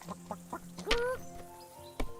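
A chicken in Kingdom Come: Deliverance 2 gives a few short clucks and one louder squawking call among light game ambience, fairly close and clear.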